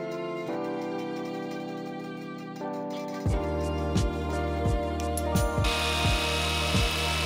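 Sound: power drill drilling holes in a rackmount server case

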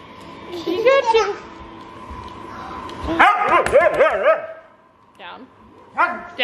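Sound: Siberian husky barking

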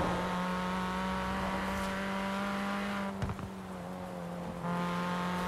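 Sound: car engine revving

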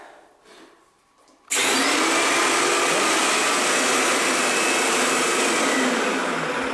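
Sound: Wagner Control Pro 250M paint sprayer running on prime

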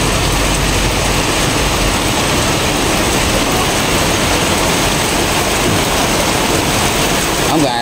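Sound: heavy rain

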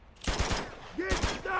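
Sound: AK rifle gunfire in Uncharted 2 video game

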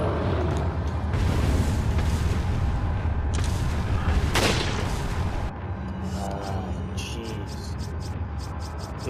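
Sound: grenade explosion in Resident Evil 4 video game

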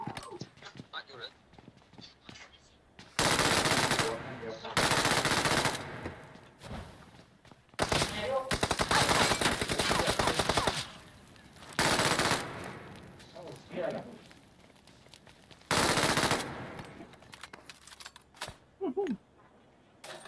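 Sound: MG3 machine gun firing in PUBG Mobile video game

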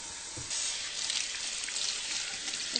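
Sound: washing hands with soap under running tap water

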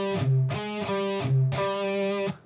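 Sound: electric guitar high gain lead riff

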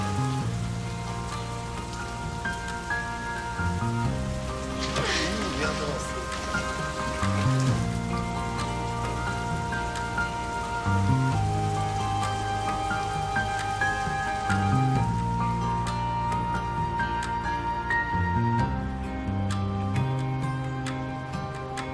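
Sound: rain

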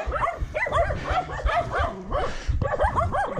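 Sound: dog barking

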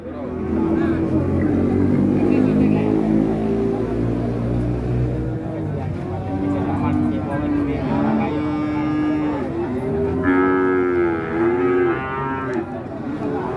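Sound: Limousin cross cattle at a livestock market

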